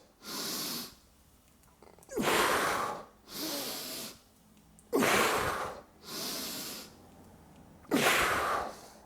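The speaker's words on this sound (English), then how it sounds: "I inhale as I'm starting to go down, exhale on the way up" Loud, close breathing during barbell good mornings: slow inhales alternate with forceful exhales, six breaths in all, each lasting about a second with short quiet gaps between them.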